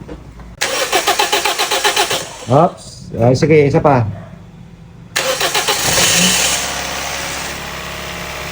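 A Toyota Vios third-generation engine cranks repeatedly on its first start after a top overhaul, stalls, then cranks again and catches, settling into a loud, rough idle; someone speaks briefly between attempts.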